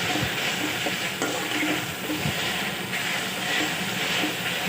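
Okra frying in a pan, a steady close hiss and sizzle with occasional stirring scrapes, no talking.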